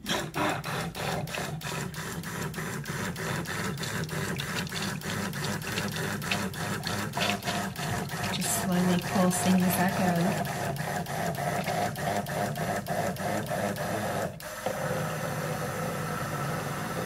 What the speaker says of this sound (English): slowly start adding these in with my stick blender